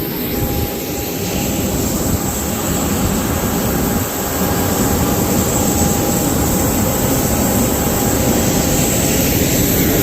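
A private jet at St. Martin's airport gives off a loud, steady roar with a high-pitched whine that carries on without a break for the full ten seconds, and no one talks over it.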